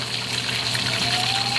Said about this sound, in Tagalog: Lagyan po natin ng suka.